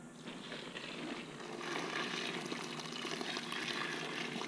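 Water being poured by hand into 13 kilos of dry gray concrete mix, a continuous soft splashing and trickling that swells slightly midway, close and fairly quiet with no talk over it.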